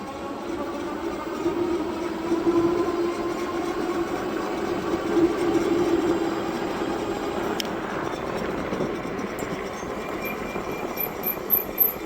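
A Razor Rambler 20 e-bike ridden on throttle alone with no pedaling, giving a steady electric motor whine and rolling road noise that holds fairly constant and close throughout, with no talk.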